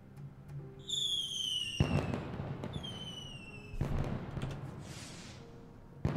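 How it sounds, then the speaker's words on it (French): Fireworks bursting over Arkadelphia, a run of sharp cracks and booms at about two-second intervals, each followed by crackling and rumbling tails, with whistling rockets rising before the blasts, loud and fairly close. "Le temps de tout cacher, les feux d'artifice sont déjà"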